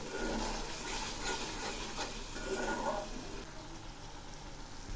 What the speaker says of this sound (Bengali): আবার একটু নেড়ে দিচ্ছি। এই মশলাগুলো আরও কষাবো।